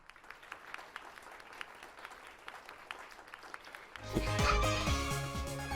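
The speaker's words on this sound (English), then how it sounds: "Clap, everybody clap!" A crowd in the video game Corpse Party claps steadily at moderate volume for several seconds before music swells in and takes over.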